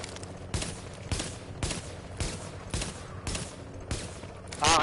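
Gunfire in Tom Clancy's The Division, played on PlayStation 4: sharp, evenly spaced shots ring out about once every half second, loud and close, with a brief burst at the end.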